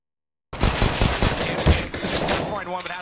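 Rapid, dense bursts of automatic gunfire in a Counter-Strike: Global Offensive ESL Major match between ENCE and Astralis play loud and close, nearly continuous for about two and a half seconds after a short silence, with a commentator talking over them.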